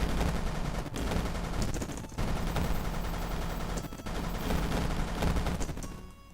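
Rapid turret gunfire in the video game Yawnoc, a dense, continuous stream of loud shots with brief gaps, a steady automatic chatter that fades off at the end.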